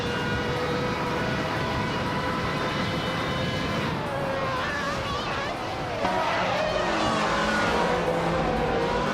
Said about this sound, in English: Waifuane is leading in a 1995 Sauber C14, which is known for its balanced performance.